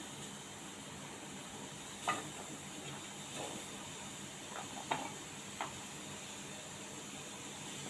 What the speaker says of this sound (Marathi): मी ते दीड कांदा घेतला आहे चिरून स्लाइस करून घेतलेत हे मी घालते त्याला भाजून घेऊया आपण